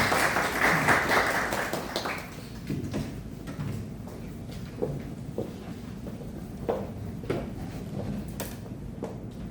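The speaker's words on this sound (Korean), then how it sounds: "큰 박수로 맞이해 주시기 바랍니다" A seminar audience claps to welcome a speaker, loud and dense applause at first that thins out within about two seconds into scattered single claps and small knocks in an indoor hall.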